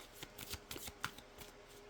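A deck of affirmation cards being shuffled close by, a quick run of soft papery riffles and flicks over about two seconds, faint and with no speech.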